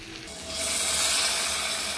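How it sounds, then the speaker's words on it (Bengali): Spices, prawns, raw jackfruit and potatoes frying in a pan give a steady broad sizzle that swells after the first half second and then holds loud and even, with no talking. "সমস্ত মশলা, চিংড়ি মাছ, এঁচোড়, আলু খুব সুন্দরভাবে আমি কষিয়ে নিয়েছি"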